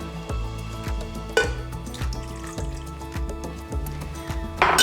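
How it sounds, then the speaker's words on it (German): Cream being poured into a food processor bowl onto mascarpone, with soft, repeated splashing and gurgling pulses close by in a quiet kitchen. "Dann gebe ich Sahne dazu"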